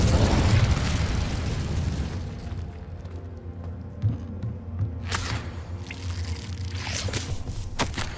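The Incendio fire spell is cast in Hogwarts Legacy as a loud rushing, roaring burst that fades into a low rumble. Brighter crackling flares and pops follow near the end.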